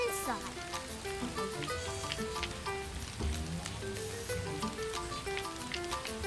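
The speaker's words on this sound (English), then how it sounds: "It's raining." Rain falling in an animated children's cartoon, a continuous hiss of drops spattering on surfaces, running under music and other soundtrack elements throughout.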